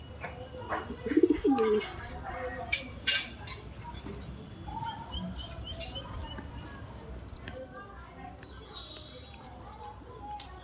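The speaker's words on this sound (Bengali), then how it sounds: "আমার কাছে একটা নর গোলা পায়রা আছে" Domestic pigeons, including a male rock pigeon, cooing softly nearby, with low throaty calls and light rustling and pattering, while a person talks over them.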